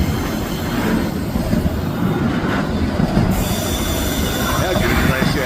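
A goods train passes close by on tracks in the Adelaide Hills, Australia, a loud continuous rumble of rolling wagons with squealing wheels running throughout.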